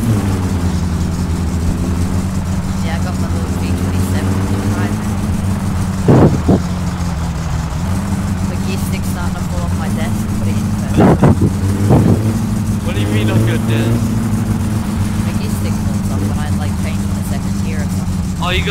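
A car engine runs close by during carburetor tuning, idling roughly and then revving in a few short bursts, with people talking over it.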